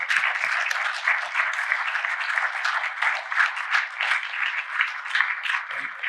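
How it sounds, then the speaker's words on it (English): Audience applause at a land trust annual meeting, a dense, steady wash of many hands clapping continuously for several seconds at close-to-mid distance, with no talking over it. "ladies and gentlemen, let's give him a round of applause."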